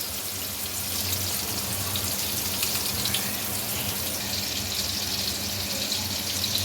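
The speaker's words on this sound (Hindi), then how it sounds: "अब इन टिंडों को ऑयल में हल्का सा फ्राई कर लें" Stuffed tinda (apple gourd) frying in oil with onions in a pan, giving a steady, even sizzle and bubbling hiss that holds close and constant throughout.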